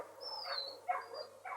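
A rabid dog attacking, with short barks or yelps in a few separate bursts, fairly faint and alone without talk.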